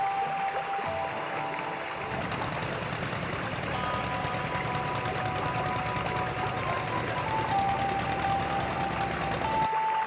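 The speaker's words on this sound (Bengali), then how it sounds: "আমাদের দশ মিনিট হলো আমাদের এই লঞ্চ ছেড়ে বেরিয়েছে" A river launch engine drones steadily on a Sundarbans trip, a constant close mechanical chugging with a faint whine that holds unbroken for the whole stretch.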